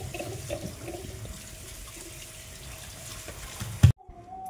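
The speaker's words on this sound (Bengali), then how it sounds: "আর এদিকে চাউমিনটা জল ঝরিয়ে রাখি" Water pours off boiled chowmein noodles draining in a kitchen, a soft running splash that swells briefly and then cuts off abruptly near the end.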